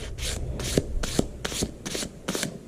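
Sandpaper worked back and forth over the steel blade of an old hunting knife, seven or so rhythmic rasping strokes close by, steady and fairly loud with no voices.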